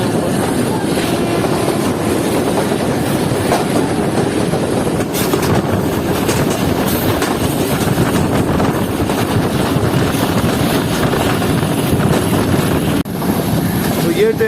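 A steady, heavy rumble from the Jaffer Express passenger train running past Khairabad station, loud and continuous throughout, with a couple of brief rattling bumps along the way.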